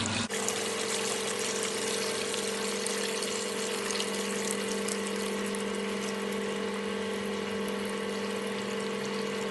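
Hot water drains out of a Snow Shake frozen beverage machine during cleaning, a steady, loud, continuous rushing flow with a constant underlying mechanical hum.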